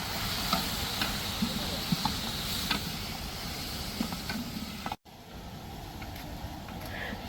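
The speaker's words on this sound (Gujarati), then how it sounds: "હવે તેને બરાબર મિક્સ કરીશું." Masala frying in a pan with green garlic, green onion and ginger for tuver totha, stirred with a spoon: steady sizzle under repeated scraping clicks, close and fairly quiet, with a brief dropout near the end.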